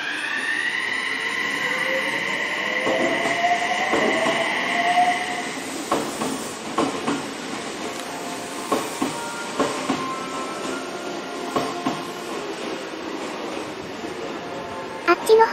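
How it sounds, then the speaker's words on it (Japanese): An Odakyu Line train departs Fujisawa Station toward Sagami-Ono with a rising electric motor whine, followed by rhythmic clacks of wheels over rail joints as it moves off. "相模大野方面の列車が発着していきます"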